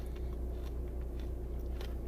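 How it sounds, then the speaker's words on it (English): Someone bites into a crunchy toffee Score bar, producing close, soft crunching and chewing with no talking. "I apologize if you can hear me crunching, but it's very crunchy."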